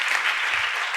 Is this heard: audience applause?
yes